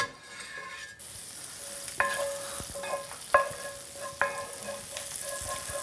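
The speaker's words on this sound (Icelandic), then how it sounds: "Svo bætum við smjör á pönnuna" Butter sizzles in a frying pan, a steady crackling hiss with occasional scraping clinks of a utensil stirring against the pan.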